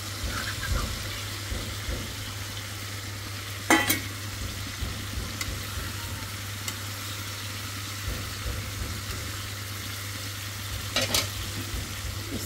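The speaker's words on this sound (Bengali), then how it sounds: "পেঁয়াজ একটু ভুনা করে দিই" Onion and spices fry quietly in a pan for a fish curry, a low, even sizzle over a constant hum, broken by a couple of brief sharp clinks.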